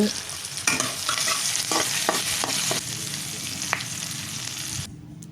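Tomatoes sautéed and mashed in a pan for chutney, with a steady sizzle and a run of quick scraping, tapping strokes of a spoon breaking them down, then a quieter hiss at the end.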